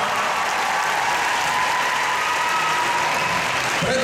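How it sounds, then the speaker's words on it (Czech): A large crowd gathered for a flash mob breaks into a huge, sustained round of applause, dense and loud from start to finish with no break. "v tomto momente by som poprosil jeden obrovský potlesk"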